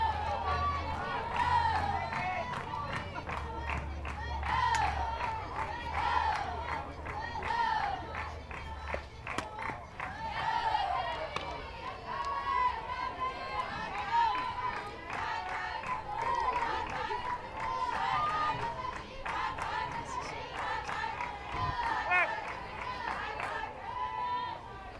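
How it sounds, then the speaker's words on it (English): Packed bleachers at an Oklahoma State college softball game give off a steady crowd murmur with scattered clapping and chatter, running continuously under a commentator's voice. "it's another great crowd here at Oklahoma State. Packing the bleachers"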